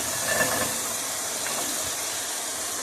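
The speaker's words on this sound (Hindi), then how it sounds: "चिकन हमारा फ्राई हो रहा है।" Chicken fries in a covered pan with a constant bright hiss and sizzle, steady and close, with no voices over it.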